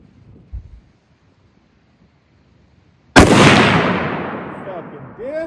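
A single loud gunshot fired at a target cracks out after a few seconds of near silence, its blast trailing into a long, decaying echo across the range, with brief talk and wind noise near the end.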